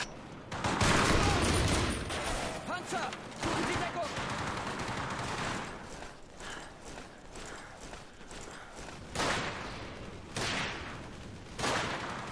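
Bursts of gunfire in the World War II shooter Hour of Victory, aimed at a tank, with crackling volleys and rapid automatic shots coming in uneven waves, loud and close, amid clattering game noise.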